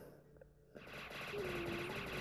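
Rapid gunfire from a plasma spreader in the video game Pixel Gun, heard as a dense, continuous electronic rattle that starts suddenly after a brief near-silent moment, with a thin tone gliding through it.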